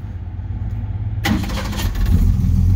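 A 1962 Ford Ranchero fires up: a low idle rumble, then a sudden loud catch as the engine starts and settles into a steady, close running drone.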